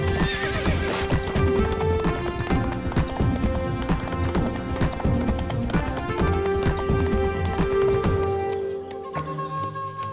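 Horse hooves clip-clop in a fast, steady gallop for a cartoon, with whinnies rising over the rhythmic beats amid other soundtrack sounds. The hoofbeats fade toward the end.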